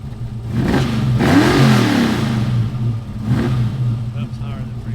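A 1957 Ford Fairlane V8 fitted with Aces fuel injection revs up sharply twice, climbing and falling quickly each time, with a steady idle between the blips, recorded close by.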